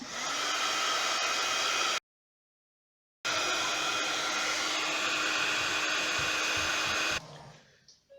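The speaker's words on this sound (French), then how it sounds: "après vous séchez, donc soit à l'air libre, soit au pistolet chauffant" A heat gun blowing to dry paint on a mixed-media circular artist trading card, a loud steady whirring hiss that cuts out for about a second, resumes, then stops near the end.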